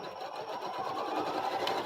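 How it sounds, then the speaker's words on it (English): A sewing machine stitches quilt block pieces directly on a marked line, a fast, even mechanical whir with a rapid needle rhythm running throughout at moderate level. "I'm sewing directly on the line."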